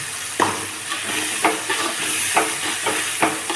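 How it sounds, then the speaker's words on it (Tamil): Ground coriander masala sautéing in a pan, a loud continuous frying hiss with regular scraping stirs of a spatula every second or so, close up. "கொஞ்சம் பச்சை வாசனை போகிற வரைக்கும் கொஞ்சம் வதக்கி விடுங்க"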